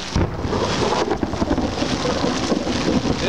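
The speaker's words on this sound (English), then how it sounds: "it's just got lightning and thunder" Thunder rumbles through a July thunderstorm with lightning overhead, a dense loud roar blended with heavy rain and wind, sustained throughout without a break.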